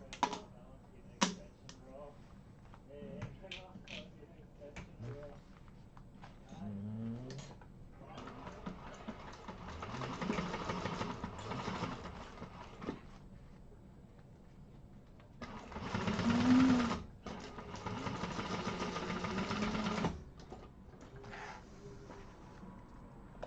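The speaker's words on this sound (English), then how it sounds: "we're going to sew across that seam with a 3/8" Sewing machine stitching across a seam with a 3/8 allowance on a Konin bowler bag, several short runs of steady mechanical whirring, close by, with quiet handling noises between runs.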